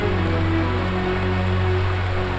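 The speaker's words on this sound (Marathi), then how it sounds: "पाऊस पडायला लागला ना मॅडम" Rain falling, a dense, even patter and hiss filling the brief stretch without a break, with a low steady hum underneath and no voices.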